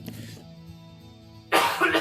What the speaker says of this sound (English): I thought I only coughed